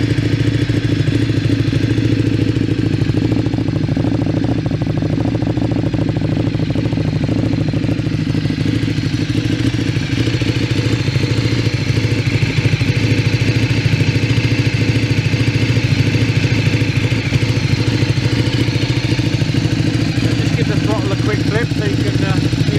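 A Ducati 848 Streetfighter fitted with a MIVV titanium exhaust idles close by, a loud, steady, throbbing engine note with a slight mechanical clatter that holds unbroken throughout.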